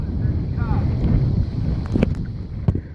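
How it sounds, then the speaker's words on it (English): Wind gusts buffet the microphone in a steady low roar on a kayak outing in a homemade styrofoam kayak, with faint water sounds and brief voices under the rush. "Careful of that wind."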